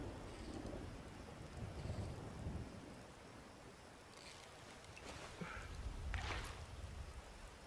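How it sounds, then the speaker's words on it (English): Steady rain falling with low rumbling thunder in the video game Skyrim, a continuous wash of noise with swelling rolls and faint higher splashes. "I've got it raining."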